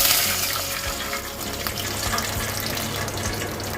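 About a cup of water is poured into hot tempering in a pan while making sev khamani, giving a steady rushing splash and sizzle that fades slightly over a few seconds.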